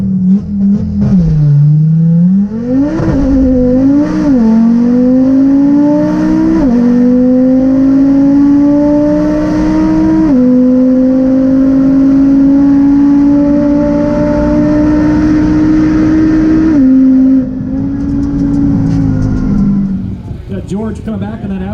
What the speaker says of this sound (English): George coming back on that Audi Rs3.